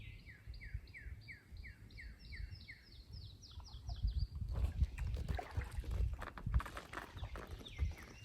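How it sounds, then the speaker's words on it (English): Songbirds in marshland along a large creek, with a bird repeating a quick series of high, clear down-slurred notes in the first half, then rustling and splashing noises while the birdsong fades away. "Lots of birds out, songbirds."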